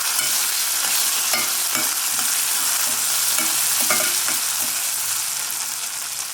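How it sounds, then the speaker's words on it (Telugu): Cashews and curry leaves fry in hot oil in a pan, giving a steady close sizzle with a few brief stirring scrapes. "ఈ వేడికి వేగిపోతాయి అన్నమాట. జీడిపప్పు అండ్ కరివేపాకు రెండు కూడా."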